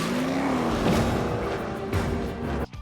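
A car roars through an action movie chase scene in which it runs over a Santa decoration, its engine and tyres loud and continuous for about three seconds under a swelling film score, then cutting off abruptly at the end.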